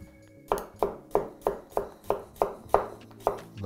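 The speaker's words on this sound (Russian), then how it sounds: "Кубиками нарезаем картошку." Knife dicing potatoes into cubes on a cutting board for Armenian lentil soup, about ten sharp, evenly spaced chops in a steady rhythm, close and clear with no talking.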